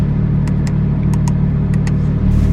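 A 2018 Porsche 991.2 GT3 in PDK Sport mode with sport exhaust and sport suspension: a loud, steady engine drone heard up close, with no talking.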